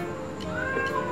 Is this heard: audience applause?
no